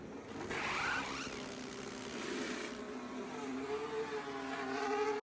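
A homemade Parkside Performance 20V impact wrench with a 3/8-inch anvil conversion running: a continuous high, buzzing whine held steady for several seconds before cutting off abruptly, close and fairly loud, with no talk.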